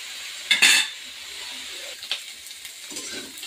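Vegetables sautéing in a pan for a neem chhechki dish, a steady soft sizzle with a few sharp utensil clinks and scrapes near the start and one more partway through.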